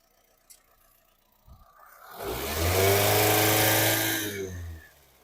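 A 2018 Honda WR-V i-VTEC petrol engine runs steadily with a low, smooth hum that swells in after a couple of soft knocks, holds loud and close for a few seconds, then fades away.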